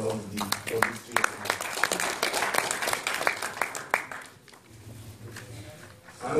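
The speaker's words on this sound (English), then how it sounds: "A great round of applause for all the participants." Audience applause at a law society event, a patter of many hands clapping for several seconds that thins out toward the end, with some low voice murmur beneath.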